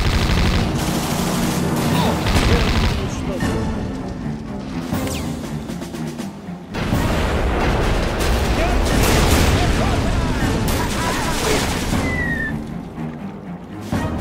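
In a WWII strategy video game, an artillery battery fires with heavy gunfire and booming blasts densely filling the clip, repeated loud shots close by and a voice speaking intermittently beneath the barrage.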